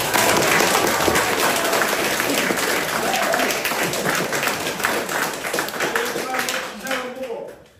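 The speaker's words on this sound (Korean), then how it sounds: "큰 박수로 좀 받으세요." Audience at a certificate ceremony for horse heritage guides in Jeju bursts into sustained applause, dense clapping filling the room throughout before tapering off at the very end.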